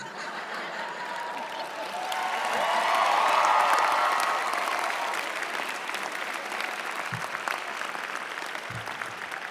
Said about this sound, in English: I was going to tell you to hold your applause, but you cut me off